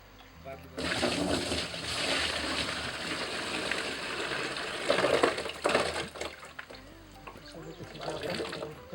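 Jaggery water is poured into cow dung being composted on a farm, a steady splashing pour that lasts several seconds with people talking over it.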